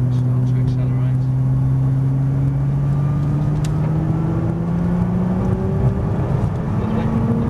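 On the Prestwold track, a Nissan GT-R's engine climbs steadily in pitch as the car accelerates hard. The loud, close engine drone rises smoothly through the rev range while a voice talks over it.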